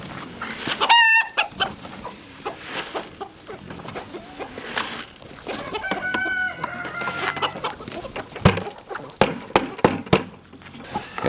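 Farm chickens cluck and crow steadily up close, joined by scattered sharp calls and a few knocks against a light outdoor background.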